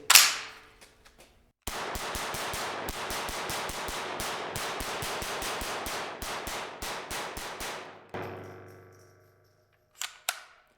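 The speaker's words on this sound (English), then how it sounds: "here we go, the new HK Umarex pistol" Rapid, evenly spaced shots from an HK Umarex .22 pistol ring out close and loud in one long continuous string, preceded by a single sharp report and followed by a few scattered clicks and handling noises.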